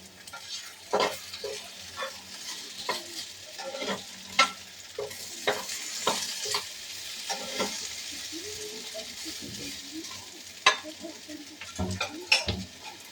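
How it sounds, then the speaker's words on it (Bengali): Potatoes frying in a pan over a high gas flame, a continuous close sizzle broken by sharp clinks and scrapes of a spatula against the metal. "আলুগুলো প্রায় ভাজা হয়ে এসেছে, আমি গ্যাসটাকে বাড়িয়ে দিলাম"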